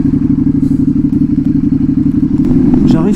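A KTM 1290 motorcycle engine throbs loudly at close range with a steady pulsing rhythm, then revs higher near the end as the rider lifts the front wheel.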